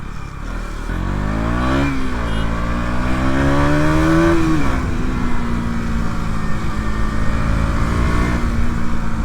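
KTM Duke 200 motorcycle engine revving up in clear rising and falling harmonic sweeps, loud and close, then settling into a steady idle-like drone with no talk.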